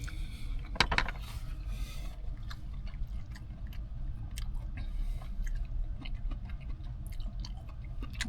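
Close, wet chewing of cooked Italian food, with one sharp bite near the start followed by soft, irregular smacking and crunching that stays quiet and continuous.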